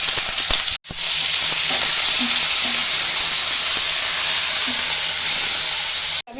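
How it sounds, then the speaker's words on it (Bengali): Paneer frying in a kadai of white oil with a little salt, producing a loud, steady close-up sizzle and hiss that runs continuously, broken only by two brief cuts. "পনিরটা আমি এখন ভেজে নেব"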